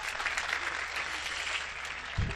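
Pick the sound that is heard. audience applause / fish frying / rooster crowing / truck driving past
audience applause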